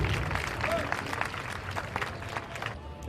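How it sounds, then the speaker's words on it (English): An outdoor community gathering during Kofi Annan's visit to Abor claps to welcome a speaker, a moderate, somewhat distant patter of many hands with murmuring voices beneath, thinning toward the end. "Can we all clap as we welcome Mr. Emmanuel Dake"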